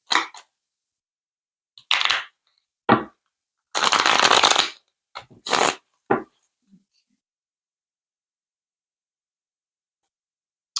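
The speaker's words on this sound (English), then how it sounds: "we shuffle well." Bursts of card shuffling, several quick riffles separated by pauses, close and crisp, with no voices.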